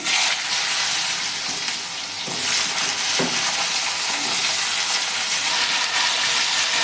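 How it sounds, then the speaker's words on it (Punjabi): Potatoes frying with crackling cumin in an iron kadai, a loud continuous sizzle and hiss with brief stirring scrapes, close and steady throughout without voices. "ਜੀਰਾ ਚਟਕ ਗਿਆ ਹੈ ਜੀ ਨਾਲ ਹੀ ਆਪਾਂ ਹੁਣ ਆਲੂ ਪਾ ਦੇਵਾਂਗੇ"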